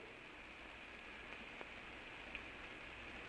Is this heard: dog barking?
no